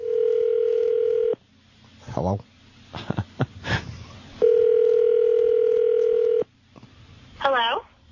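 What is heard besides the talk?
telephone dialing and dial tone on a radio prank call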